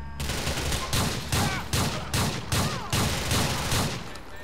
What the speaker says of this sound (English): gets out with a gun, and starts shooting me